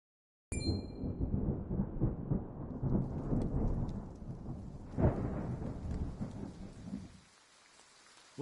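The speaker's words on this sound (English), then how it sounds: "Rain! Honest to goodness, rain!" Rain and thunder in the Triangle Strategy video game begin with a bright chime, then a steady downpour rises with rolling rumbles and a sharp crack midway before the rain fades.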